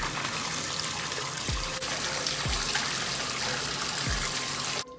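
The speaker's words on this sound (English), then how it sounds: "You have to put it under running water, and you have to kind of shake your hand so it can make a lot of bubbles." Bath bubble bar held under a running tap, a steady close rush of flowing water filling the whole stretch, with a few low splashy dips, cutting off abruptly at the end.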